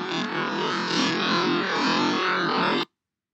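A song pitch-shifted up 300 percent and sped up in Audacity for a spooky, creepy effect plays as dense, warbling, high-pitched music, loud and steady for nearly three seconds before cutting off abruptly.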